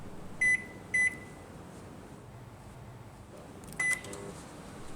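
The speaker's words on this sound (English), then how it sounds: "Place the beaker into a microwave and set it for 1 minute" A microwave oven hums steadily while heating a beaker of agar with 3 molar potassium chloride, its high beeps sounding twice close together early on and once more later, crisp and clear over the low drone.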